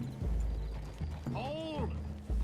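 Horse hooves clip-clopping in Red Dead Redemption 2, a few soft thuds under a low steady rumble, with a horse's whinny-like tone in the middle and speech around it.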